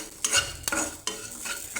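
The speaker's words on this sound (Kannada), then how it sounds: "ಹಾಕ್ಕೊಂಡ್ಬಿಟ್ಟು ಚೆನ್ನಾಗಿ ಫ್ರೈ ಮಾಡ್ಕೋಬೇಕು." Whole cinnamon, cardamom, cloves and coriander seeds fry in a pan over low to medium heat, stirred in a few brisk scraping strokes with a soft sizzle underneath, close and alone.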